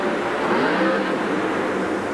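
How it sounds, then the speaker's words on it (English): Roar of funny cars on a drag strip at a truck pulling event, a dense, loud, continuous engine rumble with no voices over it. "If you can hear over the roar of the cars down there"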